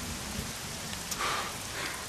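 Steady rain pours throughout, a dense even hiss with no voices, loud and close as if falling on a surface nearby.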